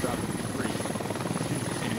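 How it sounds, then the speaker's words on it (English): Helicopter in the military shooter Squad, near and loud, with a fast rotor chop and engine buzz droning steadily while a voice talks over it. "Looks like US forces are managing to get a helicopter down close to the Eva radio."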